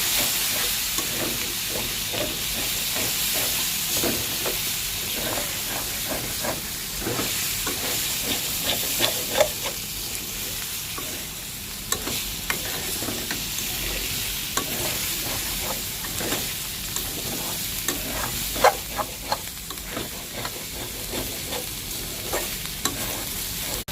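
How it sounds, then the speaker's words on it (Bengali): Red chili powder, turmeric, ginger and garlic fry in a pan for a taki fish chili dish, a steady close sizzle broken by repeated scraping stirs, with no talking. "দিয়ে দিচ্ছি লাল মরিচের গুঁড়া, হলুদের গুঁড়া, আদা, রসুন এগুলো দিয়ে আবার এগুলোকে ভাজবো।"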